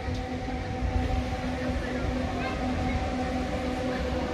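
A tram rolls past in Saarbrücken with a steady rumbling and a faint tonal whine from its wheels and motor, moderately close, over street background and a few voices.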